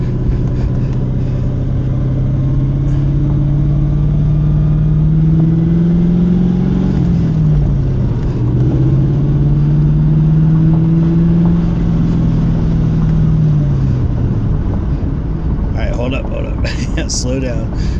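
A 1996 C4 Corvette with a manual gearbox accelerates from inside the cabin, its engine drone rising and falling in pitch loudly and steadily, with people talking over it.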